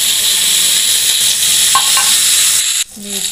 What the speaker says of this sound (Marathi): मिरची जी तेलामध्ये भाजताना उडत असते